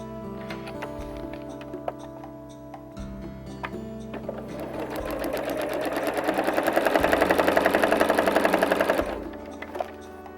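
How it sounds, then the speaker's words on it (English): A sewing machine stitches a quilt along dotted lines, its needle chattering in a fast, steady mechanical rhythm that builds in the middle of the clip and then stops, with quieter machine noise around it. "we're going to sew on all the dotted lines"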